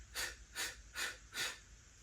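Four sharp, rhythmic percussive exhales of breathing during the Pilates hundred core exercise, evenly spaced and close, with quiet pauses between each puff.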